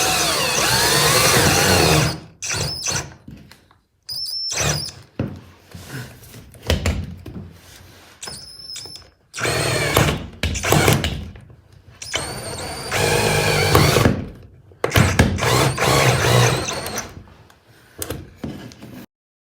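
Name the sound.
power driver driving stainless steel screws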